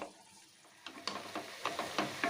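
A spoon stirs mashed banana stem paste in a pan over heat, cooked without added water, giving a series of short scraping, squelching strokes with a soft sizzle beneath, fairly close and steady.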